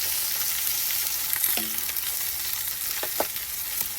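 Parmesan and heavy cream sauce being whisked in a pan at a truck campsite, with a constant loud sizzle and a few light metallic clinks of the whisk.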